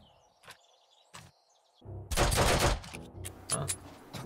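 Gunfire in the zombie survival game 7 Days to Die: after a quiet stretch with a few isolated sharp cracks and faint bird chirps, a loud, dense burst of rapid shots erupts, followed by several more spaced blasts.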